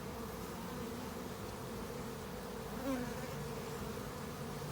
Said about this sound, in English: There's a bunch of bees here,